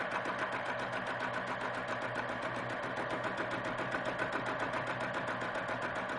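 Sewing machine stitching lines across a quilt block, a steady fast mechanical whirr with rapid needle ticking, moderately quiet and continuous throughout, with no talking.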